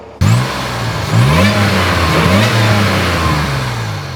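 A supercharged 2001 Toyota Tacoma with a Magnuson TVS 1320 supercharger and smaller pulley revs up sharply from a start, then cycles through several rising and falling throttle blips, loud and close with no talk.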